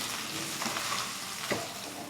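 Rolled pieces of leftover roti fry over a high flame while being gently stirred in a pan, giving a steady close sizzle with a faint scrape of the stirring partway through.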